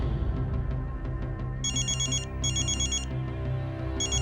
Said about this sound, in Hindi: अंतरा के फोन पर रुद्र का कॉल आया।